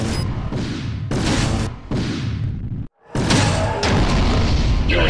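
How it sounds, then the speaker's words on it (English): Missile launches in the 1997 space combat game Wing Commander: Prophecy, heard as a series of loud booming whooshes in bursts, with a brief silent gap before a final heavy launch. "Launching missile."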